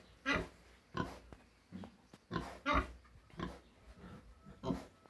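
Free-range farm pigs grunting in short, broad bursts, about seven or eight close-up grunts spaced roughly half a second to a second apart, with no talk over them.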